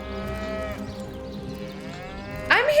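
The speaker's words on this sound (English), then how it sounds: "I'm hearing cows now." Cows moo in the fantasy role-playing game Divinity: Original Sin, a long drawn-out bellow followed by a second rising moo, loud and close, with no talking over them.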